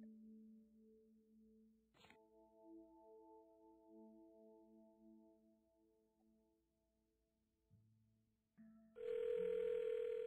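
Telephone tones from a rotary phone in the puzzle game Cube Escape: Paradox: a steady, quiet dial-like hum with a brief click, a shift in pitch, then a louder, bright tone near the end.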